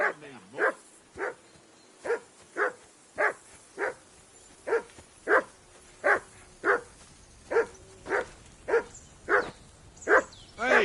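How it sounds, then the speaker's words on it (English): A dog in the game Kingdom Come: Deliverance 2 barks repeatedly at a steady, regular pace, about eighteen sharp, fairly close barks in a row, with faint background ambience between them. "Hey, call off that dog and then we can talk."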